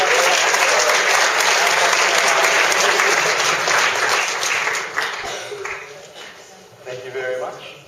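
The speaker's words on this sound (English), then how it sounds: "Everyone, give Lindsay one more big round of applause" A variety show audience applauds loudly at the close of a magic act, steady dense clapping that gradually thins and fades over several seconds.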